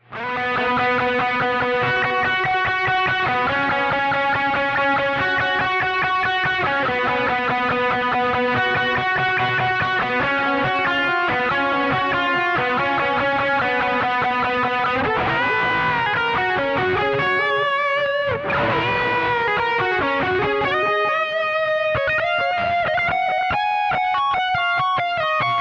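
Electric guitar with heavy distortion plays a continuous melodic solo, starting slower and picking up into quicker runs, loud and up front with no talking.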